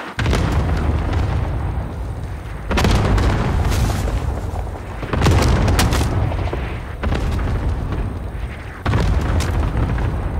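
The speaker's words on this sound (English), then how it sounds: "Good copy. Cluster strike away." A cluster strike pounds the ground in Call of Duty Modern Warfare, with several heavy booms landing every two to three seconds, each a loud, rumbling blast that decays into a roar before the next hits.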